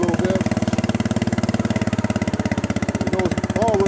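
A small tractor engine with a clutch-lever hydrostatic drive idles in a steady, close, rhythmic chug, with brief faint whistling tones near the start and end.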